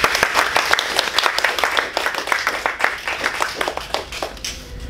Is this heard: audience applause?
yes